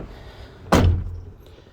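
A truck cab door swings shut with a single solid slam, close and loud, followed by a short fading rattle, with no talking.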